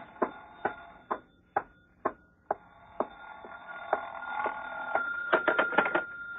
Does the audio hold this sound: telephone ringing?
yes